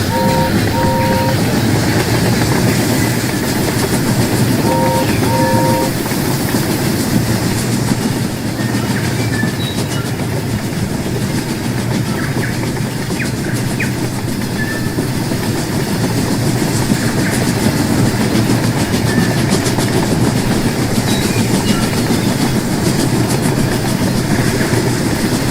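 Steady clickety-clack of a train rolling along rails in the railway game Rolling Line, a continuous loud rumble with rhythmic wheel clatter and a couple of short horn-like tones near the start.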